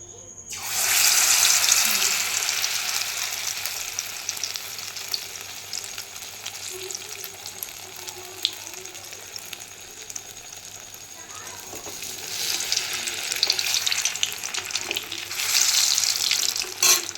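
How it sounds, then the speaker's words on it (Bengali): Food sizzles in hot oil in a kadai (wok) while a kids' tiffin snack is cooked. The steady, bright frying hiss swells louder at the start and again near the end, with a few faint clinks over it. "এদিকে কড়াইতে তেল বসিয়েছি, তেলটা গরম হয়ে গেছে।"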